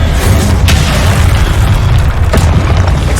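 Confringo fire spell explosions in the Hogwarts Legacy video game: a loud, dense booming roar with two or three sharper bursts cracking through, continuous and close.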